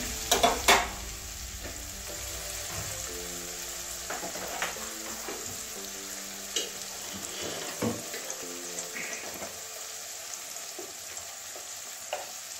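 Spices and slit green chillies sizzle steadily while being stir-fried in a pan for a Bengali spinach and snail curry, with intermittent spoon scrapes and clinks over a constant hiss.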